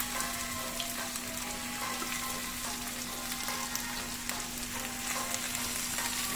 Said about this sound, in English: we fry until the sausage are fried